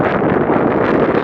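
Wind blows at an abandoned mine site as a loud, steady rush of buffeting noise against the microphone, filling the whole short moment.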